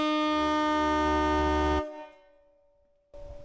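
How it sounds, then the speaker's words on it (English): A loud truck horn, an air-horn type, blasts steadily for nearly two seconds and then cuts off, and a second short honk starts just after a pause. The horn had not worked for a while. "Go try the horn."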